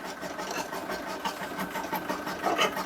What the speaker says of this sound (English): then I will sew across from corner to corner